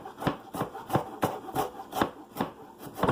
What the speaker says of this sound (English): Into Brunoise, which is very finely chopped.